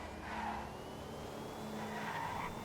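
An add-on electric car driving in GTA V, a quick modded replacement for the Glendale, giving a steady tire hiss and road noise with faint whining squeals, no engine roar, no talk.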